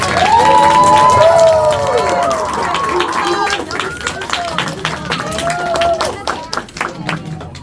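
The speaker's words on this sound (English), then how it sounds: "Let's give her a round of applause" A crowd claps and cheers, with excited shouting voices rising over the applause, which tapers into scattered claps toward the end.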